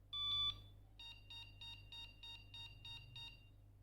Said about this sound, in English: Those were either 2 short beeps and then another 8 short beeps, or 1 long beep and 8 short beeps